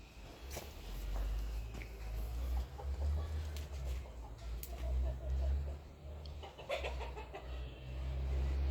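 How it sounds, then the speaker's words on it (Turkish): Chickens cluck softly outdoors, with faint bird calls and light footsteps over a low, steady rumble of background noise. A voice is heard briefly. "Tavuklar, tavuklar."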